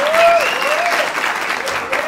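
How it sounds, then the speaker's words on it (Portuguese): Audience applause fills a stand-up comedy event, a dense, steady wash of clapping with crowd noise underneath. Tonal whistle-like sounds sweep through it. "Uma salva de palmas para o novo participante."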